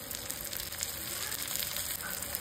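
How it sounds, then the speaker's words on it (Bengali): Chopped tomatoes fry with spices in a pan for an egg tomato fry, making a dense, continuous hissing sizzle at steady loudness throughout, with no voices. "সব কিছু যখন একটু ভাজা ভাজা হয়ে যাবে তখন কেটে রাখা টমেটোগুলো এক এক করে দিয়ে দিন"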